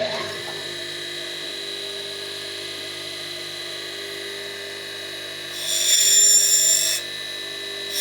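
An electric grinder runs steadily with a high whine as it shapes a precision metal part, then rises into a harsher, louder grinding burst for about a second while it bites the workpiece.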